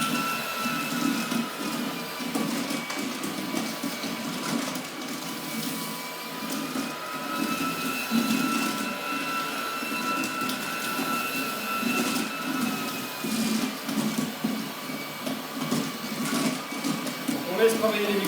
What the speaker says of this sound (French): les mops vont tourner, je vais aspirer, et là je passe en un seul passage, j'aspire